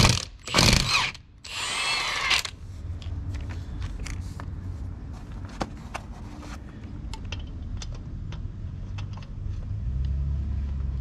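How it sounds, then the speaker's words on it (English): Milwaukee power tool with a 3/4 socket fastening lug nuts on a C5 Corvette, short loud whirring bursts at the start, then ratchety clicks and mechanical rattles over a steady low garage hum. "Got our Milwaukee already set with a 3/4 socket on it."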